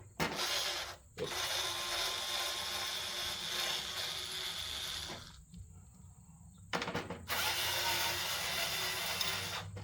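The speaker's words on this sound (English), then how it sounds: "It's a screwdriver, electric screwdriver." Cordless lithium-ion electric screwdriver with convertible pistol grip whirring in steady bursts, a close, fairly quiet buzz that stops briefly twice before restarting.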